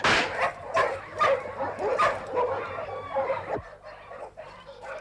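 Several bird dogs bark and yip excitedly in quick bursts, fairly close, with whimpering mixed in as they are let out during gunshot training, before the noise thins out.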